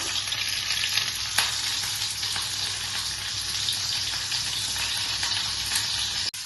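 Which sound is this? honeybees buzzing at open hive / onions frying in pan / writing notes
onions frying in pan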